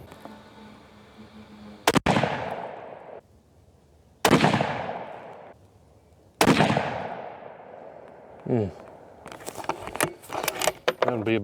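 .260 Remington rifle fired at a shooting range: three loud, sharp shots about two seconds apart, each trailing off in a long echoing decay, followed by close clattering and handling noises.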